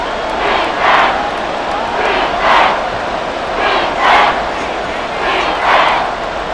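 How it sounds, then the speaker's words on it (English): A stadium crowd in Madden NFL 24 roars during a Ravens versus Commanders game, a loud sustained din that swells in rhythmic waves about every second and a half, like chanting. "This crowd turning up the decibel level."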